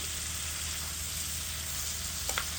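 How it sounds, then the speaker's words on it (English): Green beans hit butter and garlic in a hot pan with a steady, loud sizzle that runs the whole time, and a couple of brief clatters come near the end. "Then we're going to throw our green beans in."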